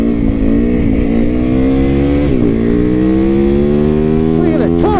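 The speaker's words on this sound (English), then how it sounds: "I love that brap, brap, brap, baby. Yeah. Pure raw motorcycle" A loud motorcycle engine revs up and down close by, its rising and falling pitch sweeping through a few throttle blips.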